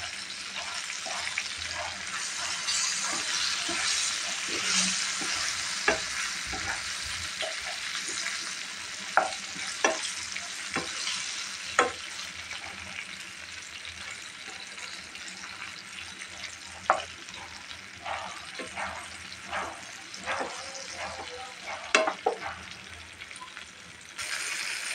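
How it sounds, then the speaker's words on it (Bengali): Eggplant slices fry in hot oil in a pan, a steady close sizzle broken by repeated sharp scrapes and clicks as the pieces are turned again and again. "বেগুনটা আমার প্রায় ভাজা হয়ে আসছে। আমি উল্টিয়ে দিচ্ছি, বারবার উল্টিয়ে দিচ্ছি।"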